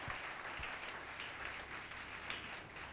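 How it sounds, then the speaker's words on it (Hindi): Congregation clapping together at a Sunday church service in a hall, a steady dense wash of applause that fills the space without a break. "कोई जोर से ताली बजाकर प्रभु को महिमा दे।"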